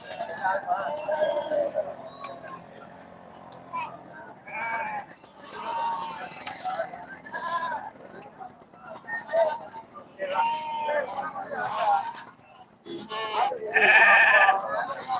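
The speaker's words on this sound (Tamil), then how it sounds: "சந்தை வாசல்லே செம்மறி பொட்டு குட்டிகள் நாலு மாசம் குட்டிகள் இருக்கு" Young sheep lambs, about four months old, bleat repeatedly at a Friday goat and sheep market in Ettayapuram, Tamil Nadu, their cries rising and falling amid people talking nearby and crowd murmur.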